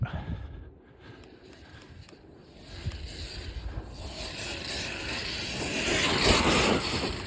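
A radio-controlled monster truck runs back toward the microphone, braking and then powering up, its motor noise swelling louder and rougher toward the end amid wind buffeting.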